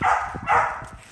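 An XL American Bully dog barks twice in quick succession, close and loud, deep woofs with a brief whimpering edge.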